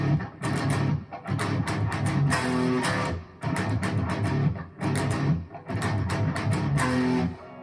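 Heavy distorted electric guitar plays an open power-chord rhythm part in breakdown style, loud and close, with choppy chugging bursts separated by short, sharp stops and no voices.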